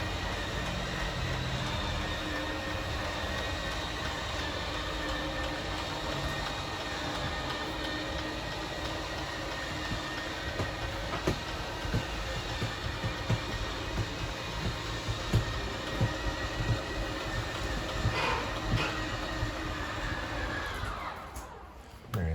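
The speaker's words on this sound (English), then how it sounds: "you're just going to hear a couple of whines from the motors and then they'll stop automatically." Steady mechanical whine from RV slide-out electric motors runs continuously, humming and grinding, then cuts off abruptly near the end.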